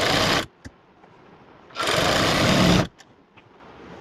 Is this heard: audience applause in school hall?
no